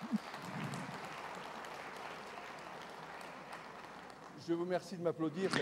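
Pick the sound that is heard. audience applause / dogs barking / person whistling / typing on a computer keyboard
audience applause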